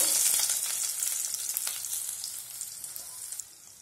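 Egg and meal maker mixture sizzles and fries in hot oil in a kadai over medium flame, a steady close crackle that slowly eases over a few seconds with no talking.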